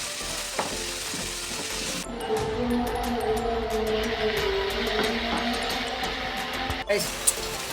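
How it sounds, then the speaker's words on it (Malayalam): Onions with a pinch of salt are added to a hot pan and stirred for a chicken ada, bursting into a loud, steady sizzle partway through with the scrape of stirring. "സവോള ഇട്ട് അതിലേക്ക് സവോള ഒന്ന് വേഗം വാടി വരാൻ വേണ്ടി ശകലം ഉപ്പിട്ട് കൊടുത്ത് എന്നിട്ട് നന്നായി ഒന്ന് മിക്സ് ചെയ്യുക."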